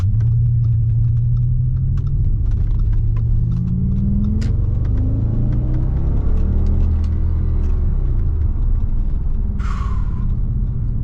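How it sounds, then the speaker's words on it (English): A 2007 Audi S6 with a 5.2L V10 and Quattro drive rumbles deep and loud while cruising through a city neighbourhood, its engine note rising and falling through shifts with a steady low drone and road noise. "now just driving through the neighborhood."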